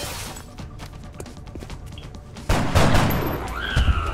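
A soldier's gunshot in X-Com: Enemy Within, a sudden loud burst landing midway after quieter game ambience, followed by ringing game effects.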